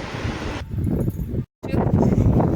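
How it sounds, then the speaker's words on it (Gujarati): Strong wind gusts roar outdoors, a dense, loud rushing that buffets the microphone, cutting out briefly before surging back just as hard. "જો પવન કેટલો છે."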